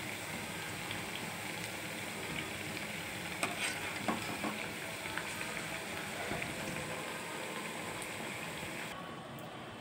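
Onion vadas deep-frying in oil make a steady, even sizzle with soft crackles and a few sharper pops, close and continuous throughout.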